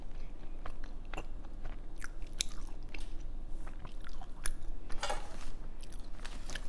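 Close, crunchy biting and wet chewing of a fried Korean mozzarella cheese ball, unsweetened and donut-style, with repeated crisp bites and soft squishy mastication sounds heard alone without talk.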